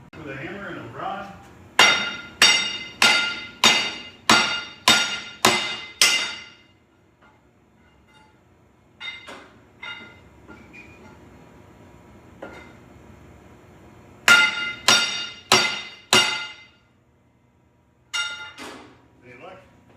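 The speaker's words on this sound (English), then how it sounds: "With a hammer and a rod." Metal hammer and rod knock on a tight alignment ring of a molding machine, two bursts of about seven sharp ringing clanks in steady rhythm, separated by scattered quieter taps, close and loud.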